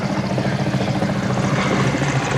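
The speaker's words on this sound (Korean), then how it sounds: "지금 소방 헬기가 계속 비행을 하고 있습니다만" A fire-fighting helicopter flies steadily overhead at a Korean rocket launch site, its rotor and engine noise forming a continuous dense roar at constant loudness, with no talk.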